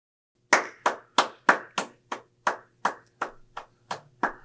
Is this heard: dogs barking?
no